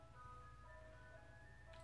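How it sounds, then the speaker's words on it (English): An ice cream truck outside plays its tinkling melody faintly in the distance over a steady low rumble, with no one speaking. "Ice cream truck throwing me off."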